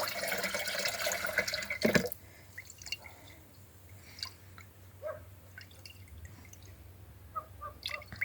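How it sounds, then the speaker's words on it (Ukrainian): A prepared water solution for spraying garden trees and bushes against disease and pests is poured out in a brief gush, followed by scattered drips and trickles. "У мене вже є готова тут водичка. зараз виливаю."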